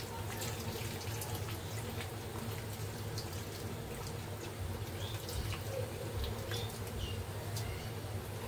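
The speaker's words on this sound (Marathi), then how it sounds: "आता चिंचेचं पाणी टाकू." Tamarind water is poured into a crab curry in a home kitchen, giving a faint steady watery trickle and splash under a low, constant background hum.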